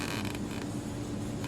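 A creaking, squeaky mechanism from a Yostyle alarm clock being handled on a desk during cleaning and repair, a steady close rasping creak that runs throughout, with no talking.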